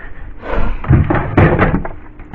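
A household drawer slides open during decluttering, giving a loud scraping rumble followed by a couple of solid thumps of wood close by, with no talk.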